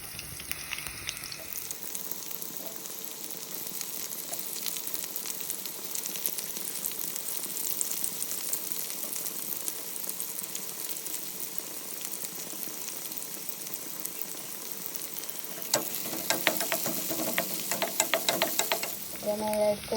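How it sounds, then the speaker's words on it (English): Onions frying in a pan, a continuous even sizzle running for the whole stretch, steady and close, with stirring scrapes growing busier toward the end. "And I'm going to put onions."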